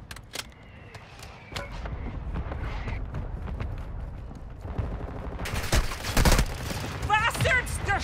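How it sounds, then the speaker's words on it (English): In Call of Duty Warzone, scattered distant shots crack over a busy rumble, then a heavier burst of close gunfire and impacts arrives near the end. A voice also speaks through the clip. "They're shooting at me!"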